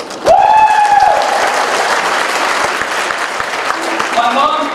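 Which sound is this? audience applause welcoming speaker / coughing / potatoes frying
audience applause welcoming speaker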